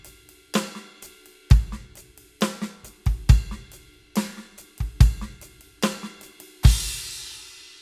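A drum kit plays a slow groove up close, with punchy kick and snare hits, ringing cymbal crashes and a crisp left-foot hi-hat chick on the offbeats, ending on a sustained cymbal wash.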